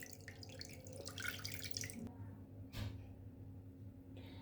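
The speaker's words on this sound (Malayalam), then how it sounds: "നമുക്കിനി വെള്ളം ഊറ്റിക്കളയാം." Washed poha (flattened rice) draining in a sieve, water trickling and dripping steadily with a brief louder splash near the middle, fairly close and without voices.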